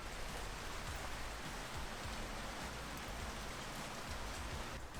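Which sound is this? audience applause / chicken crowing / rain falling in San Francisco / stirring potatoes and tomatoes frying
rain falling in San Francisco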